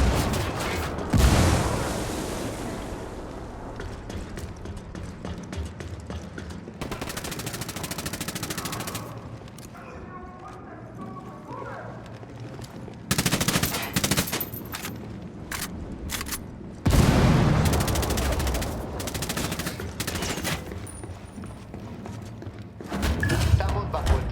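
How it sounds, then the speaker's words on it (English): Gunfire in the video game Ghost Recon Wildlands, bursts of automatic fire and heavy booms in loud clusters separated by quieter stretches, with some voice chatter mixed in. "Estamos bajo el fuego de armas enemigas y no sabemos cuántos son"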